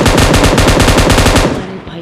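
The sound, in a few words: M249 machine gun firing in a video game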